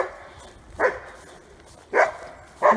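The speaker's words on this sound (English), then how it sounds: "I love dogs, but this dog is just too much sometimes" A dog barks on a trail, three short loud barks spaced about a second apart over quiet outdoor background.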